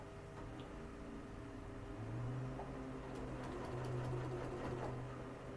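A sewing machine runs steadily at a table, stitching binding onto a Halloween table runner, with a continuous whirring hum and a faint patter of needle strikes.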